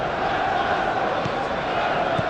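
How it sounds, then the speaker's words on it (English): A simulated stadium crowd roars in eFootball PES 21 during a Newcastle versus Barcelona Champions League match, a broad steady wash of noise with faint thuds under it. "the crowd are reacting to that now"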